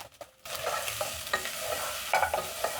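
Chopped onions fry in a pot for a Kenyan mukimo dish. A brief quiet opening gives way to a steady close sizzle, with intermittent scraping stirs against the pot.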